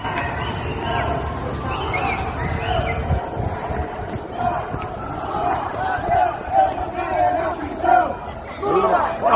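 A large crowd loudly booing Lula at a public gathering, a dense, sustained roar of jeers and chatter with swelling shouts throughout.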